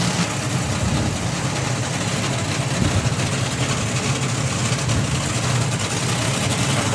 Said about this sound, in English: Do these cars sound angrier than everything else, or is it just me?